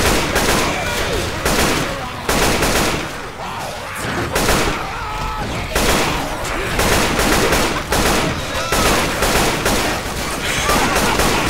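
Rapid gunfire from the co-op zombie shooter Left 4 Dead, with bursts and single shots crackling almost nonstop, loud and dense, while other game noise and voices mix underneath.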